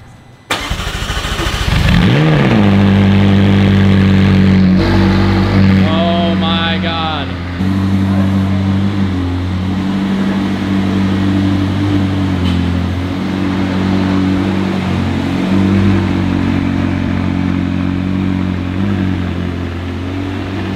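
A McLaren 600LT supercar fires up with a starter whine and a sharp, loud bark, then settles into a deep, steady idle with brief revs early on, recorded up close.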